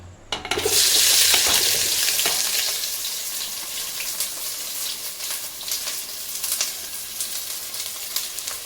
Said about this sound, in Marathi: आता आपण कांदा टाकून घेऊया तेल तापलेलं आहे